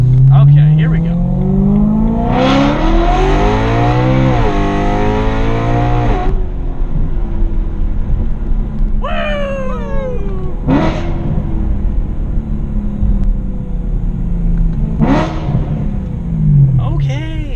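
A 2009 BMW M3 engine accelerates hard, rising in pitch through the gears with loud, close revving and a rumbling tone, with brief shift breaks and someone talking over it.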